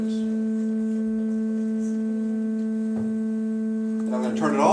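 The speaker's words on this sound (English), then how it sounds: "So this is the sound of 220 hertz." A steady 220 hertz tone from a speaker, a constant pure hum with faint overtones, holding evenly throughout, with some brief movement noise near the end.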